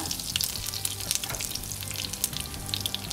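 Mustard seeds, dried red chillies and curry leaves frying in coconut oil, a loud, close crackle with rapid sharp spitting pops over a continuous hiss.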